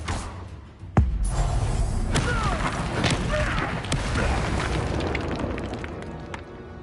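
A Confringo spell explosion in the video game Hogwarts Legacy, a sudden loud boom followed by a sustained rumbling roar of debris and magic effects, close and dense.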